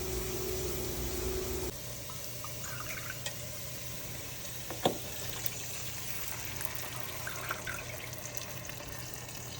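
Water poured into a pan for oats poha, a steady liquid fill heard up close with a few small clinks of the vessel, running evenly throughout at moderate level.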